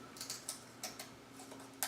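Scissors snip through a thin sheet of balsa wood for a model boat, giving a quiet, close series of light irregular clicks and crisp snaps at short intervals.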